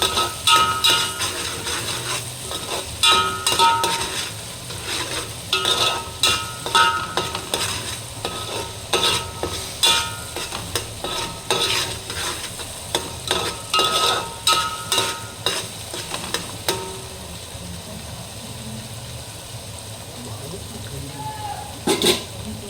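Cashews and bay leaves sizzle in a hot pan while being stirred, with repeated scraping strokes of a spoon against the pan over steady frying crackle, louder and rhythmic at first, then settling into quieter sizzling.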